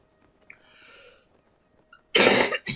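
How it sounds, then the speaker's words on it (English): A person recovering from congestion coughs in a loud, harsh burst near the end, preceded by a quieter stretch with faint breathing and small throat sounds. "I'm sorry about the coughing"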